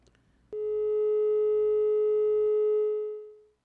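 A steady telephone tone sounds as a radio call-in caller's line drops, starting abruptly after brief faint background noise and holding alone for about three seconds before fading out.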